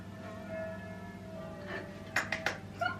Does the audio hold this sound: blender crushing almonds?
no